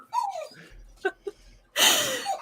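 A puppy whimpers close by: a thin rising whine, a couple of soft yips, then a louder breathy, snuffling burst, with no talking.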